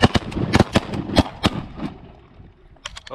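Shotgun blasts at ducks during a mixed duck hunt on a dry lake: several sharp, loud reports in quick succession over the first second and a half, then a quieter spell with another shot near the end.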